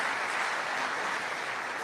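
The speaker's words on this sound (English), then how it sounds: "You see that applause?" Distant, steady applause from a large crowd at a political event, a soft even wash of clapping with no voices on top.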